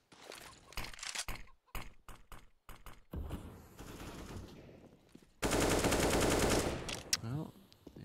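Bursts of rapid gunfire and single shots from a CS:GO match on the Inferno map in a professional esports game, with a sustained loud volley in the middle, some quieter shots before it and a fading tail.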